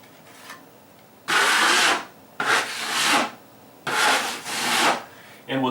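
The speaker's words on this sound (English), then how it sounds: "using a 10 or a 12-inch blade, just spread it out a little bit farther" A 10- or 12-inch drywall blade drags joint compound across a wall patch in three or four rasping, scraping strokes, each lasting about a second, close and fairly loud with short pauses between.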